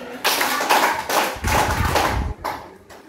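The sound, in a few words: group clapping five times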